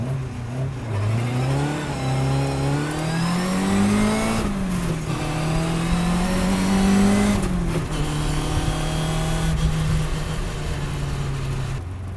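A 1957 Lotus 7 racing car engine revs loudly up and down, close by, its pitch rising and falling in surges with a rough, snarling edge, as the wheels spin.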